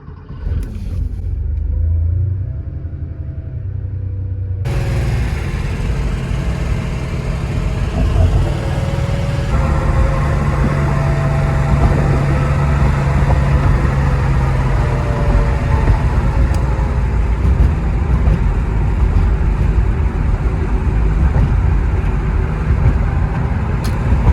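Porsche 911 driving through gridlocked New York traffic, a low continuous engine rumble and road noise heard from the cabin, steady and fairly loud after a quieter opening.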